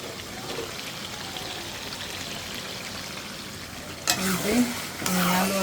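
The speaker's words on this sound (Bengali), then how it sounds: "মাংসটা ভালো করে একসাথে কষে নিচ্ছি" Beef and potatoes are stir-fried together in a pan, giving a steady sizzle that turns louder and more clattering near the end as a spoon scrapes and stirs vigorously.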